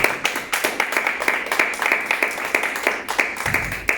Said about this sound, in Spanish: Denle un fuerte aplauso a su Dios.